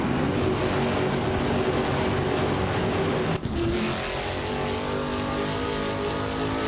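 Race car engines roar in a racing video game, with a 2021 Chevrolet Camaro GT in the pack. The steady, loud engine drone holds throughout, broken by one brief dip partway through.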